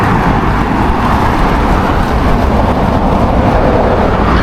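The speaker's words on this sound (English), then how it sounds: "I hope the cars aren't too loud." Road traffic near a shopping centre in Rancho Mirage, close and loud, with cars passing in a continuous broadband roar. Nothing breaks the noise from start to end.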